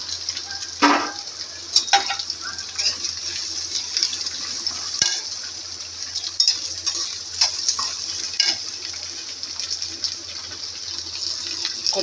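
Sliced onions sautéing for Tamil-style pepper chicken, a steady soft sizzle of oil in a pan with intermittent scraping and stirring clicks of a spoon, fairly quiet and close.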